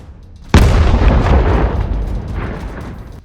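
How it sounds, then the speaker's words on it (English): An FPV drone strike explodes against a Russian tank in a combat zone: one sudden, loud, close boom followed by a long rumbling decay of debris and echo, with no voices. "Another explosion."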